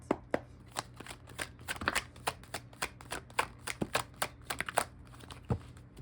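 A deck of playing cards being shuffled up close: a rapid run of crisp riffles and snaps in irregular bursts, with a faint steady hum underneath and no talking.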